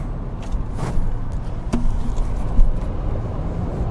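Road traffic in Huntington Beach, California, with cars passing nearby over a steady roadway hum and a few brief louder swells of vehicles going by.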